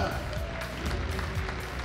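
A padel finals crowd applauding the athletes, a dense, steady clatter of clapping under an announcer's amplified voice.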